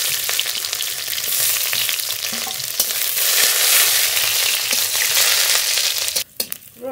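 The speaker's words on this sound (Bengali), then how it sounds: "রসুন একটু ভাজা ভাজা করে নিয়েছি" Chopped garlic and radhuni seeds frying in mustard oil in a wok, a steady close sizzle with faint stirring clicks that breaks off near the end.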